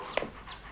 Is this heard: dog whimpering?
yes